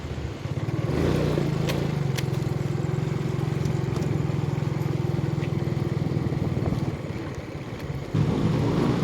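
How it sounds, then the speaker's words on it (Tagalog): A Suzuki Smash 115 motorcycle riding over a rough, partly off-road stretch near Platero, Santa Rosa, its engine droning steadily and close with rattling and wind buffeting, easing briefly before picking up again. "at dala natin ng ating Suzuki Smash 115 Legendary"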